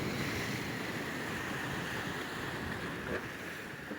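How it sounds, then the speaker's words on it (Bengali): Sea waves roll in and break on Akilpur beach at Sitakunda, a steady, moderately distant surf wash mixed with wind rumble on the microphone, with no voices. "ঢেউগুলো কীভাবে আসছে পড়ছে"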